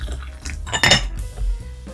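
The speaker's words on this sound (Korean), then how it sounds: "찻잎을 넣고 물을 넣고" Tea leaves are placed and water is poured into porcelain teaware for a peach-flavored oolong, giving close clinks and clatters of ceramic and a brief splashing pour, with no voices.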